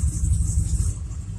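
A 1978 Chevrolet C10 Stepside pickup with a 307/350 V8 idles cold, a steady, close, loud low rumble with a hissy top end and no voices.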